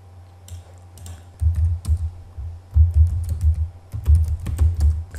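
Keys clatter in short bursts of typing on a computer keyboard, entering network switch configuration commands, close and clear with brief pauses between runs and no talking.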